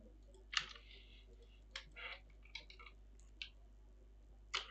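Typing on a computer keyboard, heard as sparse, faint, isolated clicks at irregular intervals over a quiet hum.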